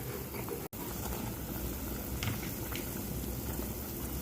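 A pot of tom yum pork leg broth with tamarind bubbles at a steady boil, a continuous dense fizzing and bubbling, close and moderately loud, with one brief dropout.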